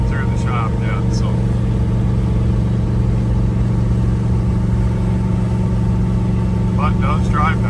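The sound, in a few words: 1969 Mercury Cougar car driving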